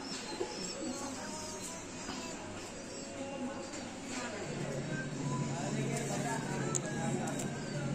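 A male pigeon coos softly in a loft, its low repeated calls half-buried under a constant background hum and faint chirps from other birds.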